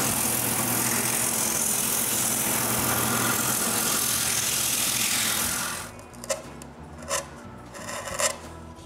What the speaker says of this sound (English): Then I can finish sanding the plate.